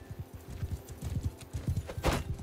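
Horse hooves clip-clop in rapid galloping rhythm in the medieval combat game Mount & Blade II: Bannerlord, close and steady, with a brief neigh-like burst near the end and no talk.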